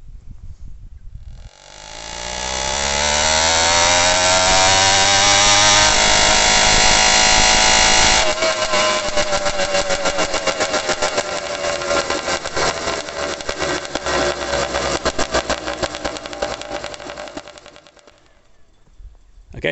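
An 80cc motorized bicycle engine with a CDH66 expansion pipe, no muffler and a port-matched flange revs up to a loud, raspy two-stroke scream, then buzzes in a choppy, crackling rhythm at high revs before dying away.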